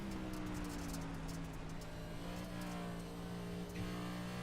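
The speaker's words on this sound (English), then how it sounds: "You can hear it in the car, what he's doing with the throttle." Sim race car on iRacing at Bristol dirt track, engine note droning steadily at high revs with small throttle modulations, continuous and close throughout, no talking.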